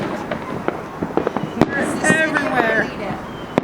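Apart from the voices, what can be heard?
fireworks exploding outdoors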